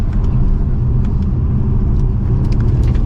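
A 2024 Mercedes-Benz CLE450 coupe drives over bumps on a bridge, heard from inside the cabin as a loud, steady low road rumble with faint soft thumps from the joints.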